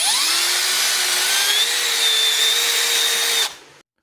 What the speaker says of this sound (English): I can go back and start lining up and drill all the rest of the holes